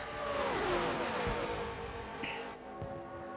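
Several NASCAR stock cars howl close together in a tight drafting pack at Daytona in Forza Motorsport 7, engine notes overlapping and shifting in pitch as they pass, with a couple of brief thumps of contact.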